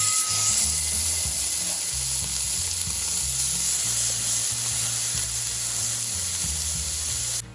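A homemade hamburger patty of fresh ground meat, drizzled with a thread of oil, sizzles steadily in a pan, a dense continuous frying hiss with faint low clatter underneath.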